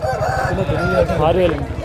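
Country chickens at a Sunday village poultry market in Vizianagaram district, a loud close chorus of clucking and squawking fowl in continuous overlapping calls.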